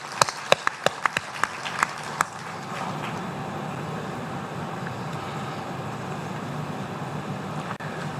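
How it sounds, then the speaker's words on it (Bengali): Audience applause at the opening of the Amar Ekushey Book Fair organised by Bangla Academy: a few sharp, separate claps at first, then dense, steady clapping from a crowd that fills the rest. "তাদের উদ্দেশ্যে আমরা একটা হাততালি দিই।"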